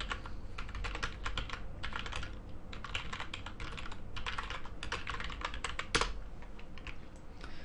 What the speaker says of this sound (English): So let's type that in.